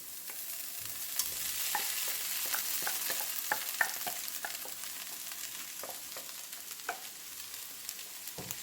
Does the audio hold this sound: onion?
yes